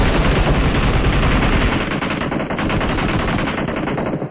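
Loud, sustained automatic machine gun fire in a first-person shooter video game, a dense continuous stream of rapid shots lasting several seconds close up before cutting off, with no talk.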